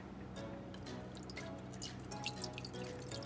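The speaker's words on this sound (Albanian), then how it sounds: "Hedhim sasinë e ujit." Water poured into a dish while making revani, an Albanian semolina dessert. Close, bright splashing and dripping runs throughout at a fairly quiet level, with no talking.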